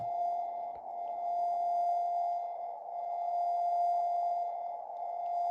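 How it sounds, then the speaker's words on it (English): A strong, steady interfering radio signal hums continuously on a ham radio receiver, (tr)uSDX or QCX-mini, with a slow pulsing swell, loud and unbroken, with no voices. "now we hear very strong interfering signal"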